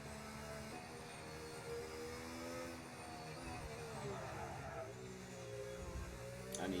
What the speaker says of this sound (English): we will ride on board with Jinto. Let's see what he can do in the McLaren.